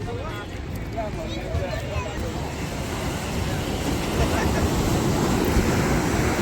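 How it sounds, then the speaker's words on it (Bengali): Ocean waves at Cox's Bazar beach roll and wash continuously in a broad, steady roar that swells slightly toward the end, with wind buffeting the microphone and faint voices nearby. "ওয়াও ঢেউর শব্দ কি সুন্দর মাশাল্লাহ"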